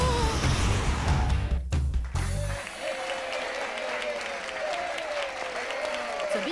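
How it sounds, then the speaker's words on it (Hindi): Cartoon audience applause as a new pop performer is introduced, loud dense clapping that swells at first and then thins out under steady crowd noise. "तो आपकी जोरदार तालियों के साथ पेश है तुर्की"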